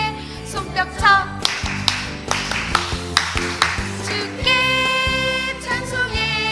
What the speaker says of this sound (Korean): 손뼉쳐